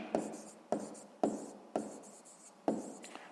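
A pen writes by hand in five quick, evenly spaced scratchy strokes, soft and close, each a sharp tap followed by a brief scrape, with no voices.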